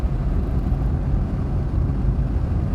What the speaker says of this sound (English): We're in the car now. We're going to accelerate a little bit.